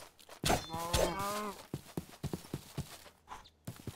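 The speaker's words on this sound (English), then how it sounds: "Cows, hello, nice to meet you," Cows moo in the RLCraft Minecraft game, two long drawn-out lowing calls close by, followed by a run of regular hoof-like footstep thuds.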